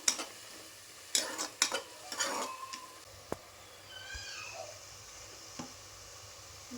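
Pulao mixture stirred in oil in a pan; a spoon scrapes and clinks against the pan in a few uneven bursts over a soft sizzle, with quiet gaps between strokes.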